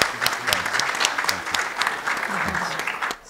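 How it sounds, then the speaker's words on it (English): An audience at a design talk breaks into brisk, steady applause, many hands clapping together at moderate volume for about three seconds before it fades out. "So just like a quick clap"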